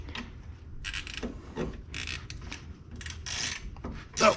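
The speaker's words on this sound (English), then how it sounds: "hold the center bolt with a 7 millimeter, and then hopefully if you have one, a ratchet wrench, so that you can back this out" A ratchet wrench backs out the center bolt on a worn rear knuckle of a 2011 Lincoln MKS, giving a series of close, uneven rasping clicks in short bursts with pauses between strokes.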